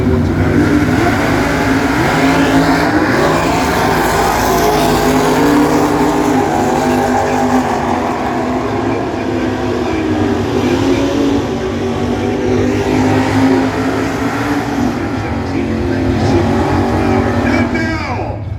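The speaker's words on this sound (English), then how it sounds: "Ford Fairlane takes on the Dodge Dart." A Ford Fairlane and a Dodge Dart drag racing at a Mooneyes car show drag event give off a loud, continuous muscle-car engine roar, revving and accelerating hard throughout, with faint voices mixed in underneath.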